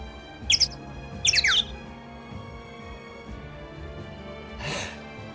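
Two short bursts of high bird chirps and squawks played as an alert during a livestream, sounding over a steady low game soundtrack, followed by a faint airy swish.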